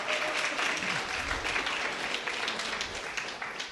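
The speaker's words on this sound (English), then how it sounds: "give her a round of applause" An audience applauds steadily throughout at a community gathering, a dense, sustained wash of many hands clapping at close-to-moderate distance with no pauses.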